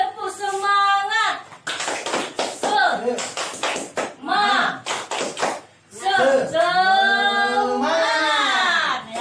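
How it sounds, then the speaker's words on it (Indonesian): A group at a parenting and child-education session performs a tepuk semangat cheer, sharp rhythmic hand claps in short patterned bursts woven between loud chanted and sung voices, close and lively. "kita akan tepuk semangat dulu"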